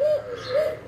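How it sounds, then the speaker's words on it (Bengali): Foreign breeds of pigeon kept loose in a loft coo close by, two soft rising-and-falling calls in quick succession over a quiet background. "যত উন্নত কবুতর আছে সব কিছু ছেড়ে দেওয়া আছে এখানে"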